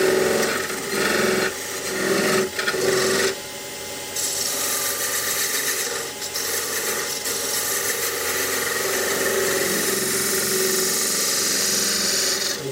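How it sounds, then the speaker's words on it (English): A skew chisel shaves end grain on a spinning wood lathe while turning a candlestick holder, producing a continuous rough scraping and hissing rasp over the lathe's steady hum, with short bursts where the cut bites harder. "I'm cutting end grain here now with this skew."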